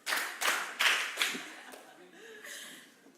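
A small group claps together in several sharp, close bursts to draw everyone's attention, and some chuckling and a bit of talk follow at the end.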